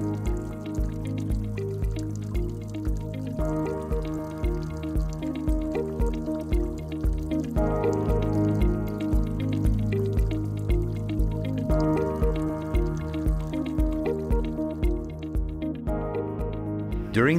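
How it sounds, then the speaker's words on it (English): Water is injected to cool the chamber of a Celitron ISS 500L infectious waste sterilizer, producing a steady, rhythmic pulsing of drips and spurts over continuous machine hum. "Water is injected to cool down the chamber."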